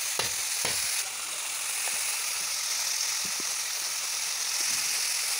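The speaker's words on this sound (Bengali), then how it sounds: "বেশ ভালো করে আমি এখন ভাজা ভাজা করতে থাকবো" Cauliflower fries in a pan with a steady, loud sizzle, while a spatula stirs it with a few scraping knocks near the start.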